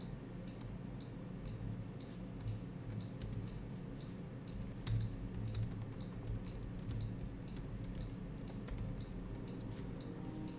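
Faint, steady typing on a computer keyboard, with scattered light key clicks over a constant low background hum and no voice.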